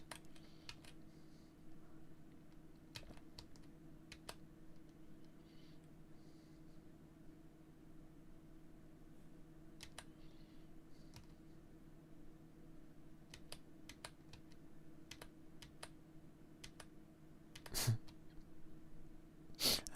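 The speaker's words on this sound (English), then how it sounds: "if you hear some tapping, it's because I'm using a keyboard, because I don't have a steering wheel." A computer keyboard is typed on in place of a steering wheel while a driving game is played, giving sparse, faint, irregular taps and clicks over a low steady hum, with a louder cluster of clicks near the end.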